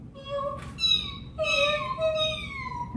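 A voice imitates a kitten, giving a few high, drawn-out mewing sounds in quick succession, close and fairly clear.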